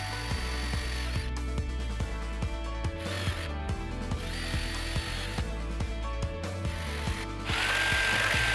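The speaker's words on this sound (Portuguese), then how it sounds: "Utilizei a serra tico-tico para fazer este corte." Jigsaw cutting an oven window hole in a toy stove door, a loud buzzing saw with a rhythmic reciprocating chatter, close and steady, briefly pausing before revving harder at the end.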